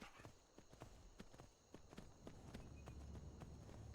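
Horse hooves clip-clopping as a mare is ridden in Skyrim, a steady rhythmic string of sharp hoofbeats at a trot, fairly close, over a low rumble of ambient game sound.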